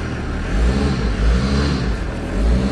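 A diesel caravan engine idling steadily, a continuous low rumble with slight swells in level, close and loud, with no talking.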